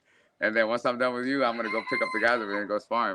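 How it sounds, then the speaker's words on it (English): A rooster on a farm crows in drawn-out calls in the background, overlapping someone speaking close by. "So that's a rooster in the background that's going off?"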